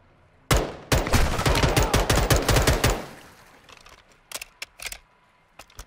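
Rapid automatic gunfire from a Call of Duty: Modern Warfare II match rattles off in a loud, dense burst for about two seconds, then trails into a few scattered, fainter shots.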